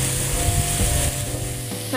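Spice paste with ground turmeric sautés in a pan, crackling and sizzling steadily up close with a low hum underneath.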